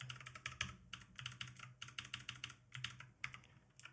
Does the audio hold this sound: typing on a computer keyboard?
yes